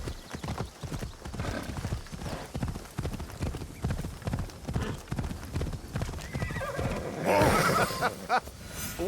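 Horse hooves clip-clop steadily in Assassin's Creed Shadows as a mount trots along, with neighing and faint game voices mixed in the background.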